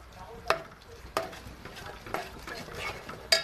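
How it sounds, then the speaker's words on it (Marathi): A spoon stirs amti curry with turmeric, red chilli, garam masala and salt in a pan, giving a few sharp scraping clicks over a faint, steady sizzle. "आता मी ह्याला हलवून घेते"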